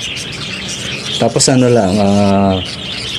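Pet parakeets (keets) chirping with a bird call at about 1.3 s and a sustained harmonic call from roughly 1.5 to 2.6 s, close and loud, with someone talking over and around them.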